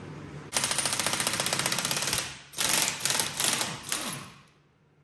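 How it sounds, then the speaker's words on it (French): Rapid clattering bursts of an impact wrench or ratchet loosening the driveshaft nut on a Renault Twingo, a long rattling run followed by several shorter bursts, close and loud with no talk. "je vais commencer par déposer la vis de cardan"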